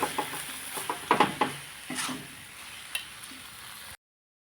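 Khandeshi green chili thecha sautéing in a pan, a steady sizzle with a few scraping stirs and clinks of the spoon near the start, close and moderately loud before cutting off abruptly.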